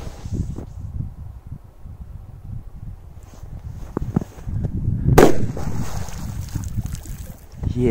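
After a stretch of wind and water noise, a single sharp firecracker bang goes off, followed by splashing and churning water.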